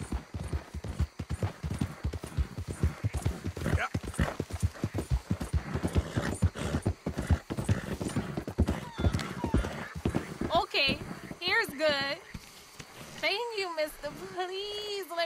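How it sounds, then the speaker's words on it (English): Horse hooves clip-clop in steady rhythm in Red Dead Redemption 2, close and continuous, with a horse whinnying near the end and someone talking over much of it. "Hope I never have to be on that horse again, dang animals."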